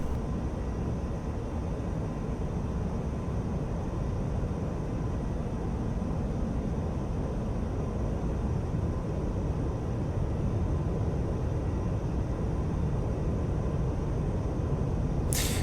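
Jet engine of an F-86F Sabre in the DCS flight simulator drawing back as the throttle is chopped, a steady broad roar and low rumble that holds loud and unbroken throughout, with no talk.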